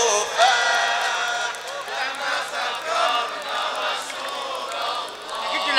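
A large crowd at a religious chanting gathering responds with loud, sustained massed voices and cheering, rising and falling in waves throughout.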